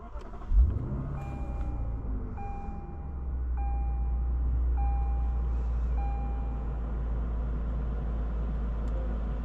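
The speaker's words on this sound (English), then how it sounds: "Today we're going for a drive in this 2023 Lexus RCF" A 2023 Lexus RC F with a naturally aspirated 5-litre V8 starts with a short burst, then settles into a deep steady rumble while a repeating chime beeps over it.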